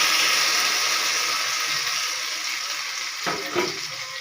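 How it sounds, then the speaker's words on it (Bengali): Marinated chicken for a yogurt chicken dish sizzles and fries steadily in hot oil, a loud, continuous hiss close by with a couple of brief clinks near the end, and no voices. "তেলটা গরম হয়ে গেলে চিকেনটা দিয়ে দেব।"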